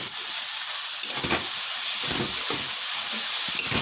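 Spices with chili powder sizzling in a hot pan after a splash of water for a prawn curry, a steady loud hiss with a few soft stirring scrapes, no talking.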